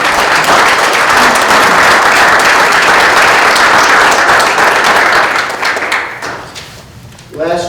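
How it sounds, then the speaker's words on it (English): An audience claps loudly and steadily for a back-to-back championship team, the dense applause fading toward the end before a voice starts speaking. "Let's give them a round of applause."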